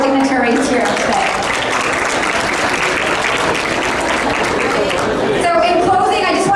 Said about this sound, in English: can we have a big round of applause for all our dignitaries here today?